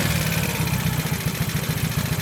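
A 50cc kids' quad engine idles steadily with a quick, even putter, close by and unbroken for a couple of seconds.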